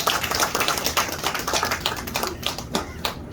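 Scattered hand clapping at an annual general meeting of a patriotic association, starting fairly dense and thinning into a few separate claps toward the end, with no one speaking.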